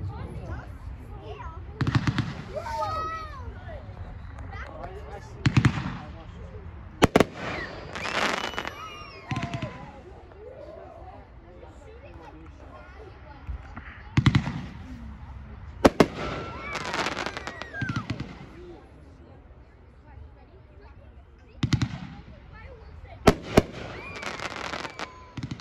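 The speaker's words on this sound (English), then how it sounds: "Item number 13 from Raccoon Fireworks, Ghost Spirit." Raccoon Fireworks Ghost Spirit aerial fireworks go off at a demo day, with repeated loud bangs and crackling bursts spread over about half a minute, some cracks sharp and near, under a crowd's talk and chatter.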